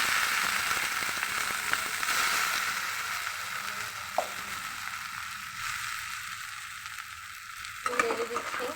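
Polao rice being stirred as it fries in ghee in a pan, a steady close sizzle with scraping stir strokes and a couple of sharper clicks from the utensil, no voices.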